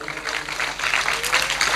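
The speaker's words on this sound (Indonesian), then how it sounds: "Tepuk tangan lagi tuh." An audience at an Islamic sholawat gathering claps in a steady, continuous patter that grows slightly louder toward the end, with no talk over it.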